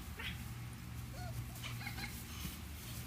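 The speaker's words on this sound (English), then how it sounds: "Oh, tough, vicious puppies." Scottiepoo puppies make faint high whimpers and squeaks over a steady low background hum, soft and close.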